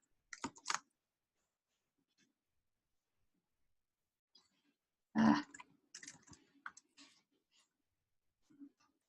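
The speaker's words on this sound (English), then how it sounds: "type a comma and enter, and then I'll keep going" Computer keyboard typing while entering a database table command: a short burst of clicks near the start, then a louder cluster of keystrokes with scattered lighter taps after, fairly close and quiet overall.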